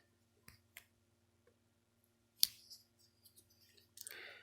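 A few sharp metallic clicks and snips from the small scissors of a multitool, spaced irregularly, close by and fairly quiet, with a brief rustle near the end.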